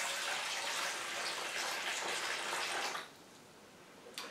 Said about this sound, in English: we're going to add water to the bottom of the pan so it'll have some moisture to cook in.